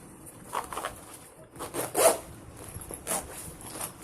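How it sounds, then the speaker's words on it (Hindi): Zipper runners slide onto the zip of a sewn bag, producing short, faint raspy zipping strokes spaced irregularly, close and quiet with no talking. "अब हम इस जिप में दोनों तरफ से रनर इंसर्ट करेंगे"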